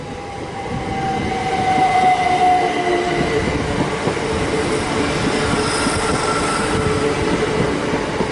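A Great Western Railway class 387 electric train passes through Ealing Broadway station: a loud, close, sustained roar of wheels on rail with faint squeals and tonal whines, steady throughout.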